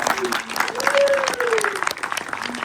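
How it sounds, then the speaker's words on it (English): Audience applause at an awards ceremony honouring category winners, a loud continuous burst of clapping with a voice speaking over it and a few cheers. "Let's give them a round of applause."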